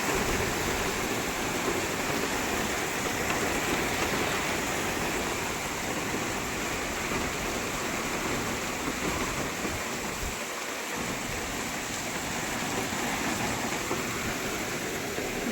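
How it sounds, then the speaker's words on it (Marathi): Heavy rain driven by wind pours onto a road, a steady dense hiss throughout with gusty surges and no voices. "वाऱ्याच्या वेगासोबत पावसाने हजेरी लावली बघा आज एकदम पाणी पाणी रोडला"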